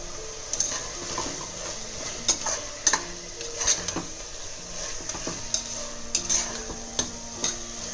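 Capsicum is stirred and fried in a pan for corn biryani, with a spoon repeatedly clinking and scraping against the metal over a soft, steady background sizzle.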